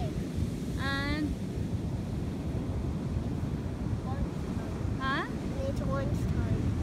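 Waves and wind roll steadily at Southampton beach in New York on a cloudy, slightly windy day, a constant surf wash with a few high gull-like calls drifting through.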